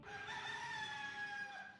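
A cartoon rooster from the Rooster Fighter anime gives one long crow, loud and up close, holding steady for nearly two seconds with nothing else heard.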